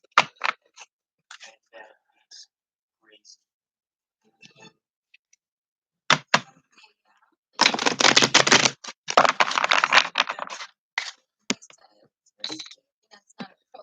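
Tarot cards shuffled up close: scattered soft taps and slides, then a dense rustling riffle for a few seconds, followed by more light card clicks.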